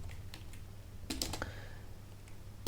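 Quiet computer keyboard typing, with a few scattered keystrokes early on, a short quick burst in the middle and one sharper key press at the end.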